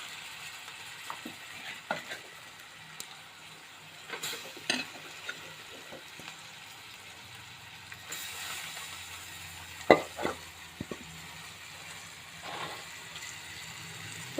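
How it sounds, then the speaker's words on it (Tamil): Washed chicken goes into hot oil and is stirred, giving a low, steady sizzle broken by scattered clinks and scraping knocks of a spoon against the pan. "நல்லா எண்ணெயிலே ஒரு கிண்டி கிண்டி விட்டுட்டு அப்புறம் சிக்கன் தூக்கி போட்டுக்கணும் நல்லா கழுவி வச்ச சிக்கன்"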